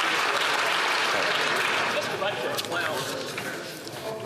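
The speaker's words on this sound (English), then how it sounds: "I guarantee it's all the Liberals that are clapping right now." Members of Parliament in Canada's House of Commons clap in a dense, sustained wash of applause that fills the chamber, gradually thinning slightly toward the end, with murmured voices underneath.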